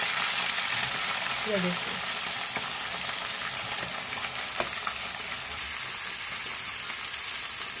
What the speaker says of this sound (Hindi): तेल में डायरेक्ट हम कटहल डालेंगे